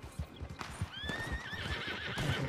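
A horse in Red Dead Redemption 2 gives a loud, wavering neigh over the steady clip-clop of hooves, with the galloping rhythm continuing throughout.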